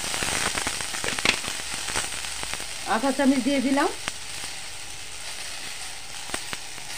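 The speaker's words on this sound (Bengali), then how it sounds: "ভাজাটাতে আমি দিয়ে দেবো অল্প ধনে গুঁড়ো," Coriander powder sizzles in a frying pan with a steady crackle, joined by a brief spoken voice midway as the spice hits the oil.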